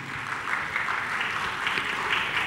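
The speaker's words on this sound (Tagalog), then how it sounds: "Nandyan ho sila, pumapalakpak sila kanina." Sustained applause from undersecretaries, assistant secretaries and staff in an audience at a post-SONA discussion, steady dense clapping across the whole moment, heard from a moderate distance with no talking.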